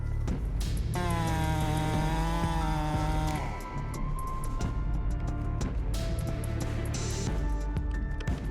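A high-powered chainsaw cuts into a huge 1.5-meter red oak stump, its engine screaming at full throttle, dipping briefly under load, then roaring on loud and close.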